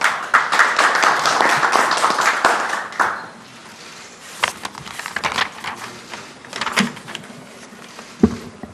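Applause from the audience at a Korean academic security and trade policy conference, welcoming the opening speaker; dense clapping for about three seconds, then sparse scattered claps and small room noises fading out.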